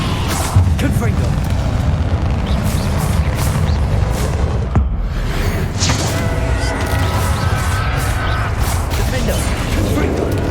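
A Confringo fire spell from Hogwarts Legacy bursts amid combat, with booming blasts, crashing impacts and dense mechanical clatter throughout, loud and continuous, with spoken spell-casting mixed in.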